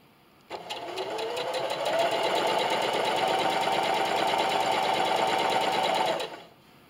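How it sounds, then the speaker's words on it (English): A sewing machine stitches fabric for a Valentine's Day envelope in one steady, buzzing run of several seconds, close and clear, starting and stopping cleanly. "And just keep sewing."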